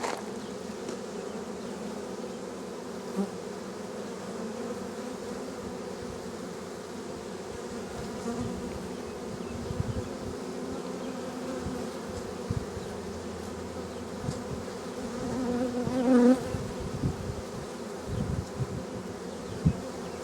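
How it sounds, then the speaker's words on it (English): Honeybees hum in a dense, continuous drone at a hive entrance as they cluster over a yellow-marked queen, close and steady with occasional louder buzzing passes and no talking. "All the bees are on top of her."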